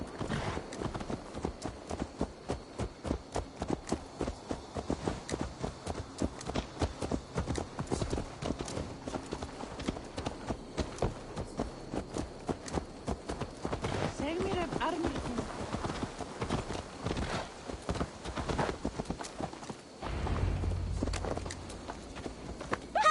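A horse's hooves clip-clop in Assassin's Creed Valhalla, a brisk, regular run of close hoofbeats lasting about twenty seconds before trailing off, with voices talking over parts of it.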